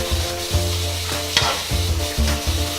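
Squash and carrots fry in a pan with a steady sizzle, broken by several scraping stirs of a utensil against the metal, close and fairly loud.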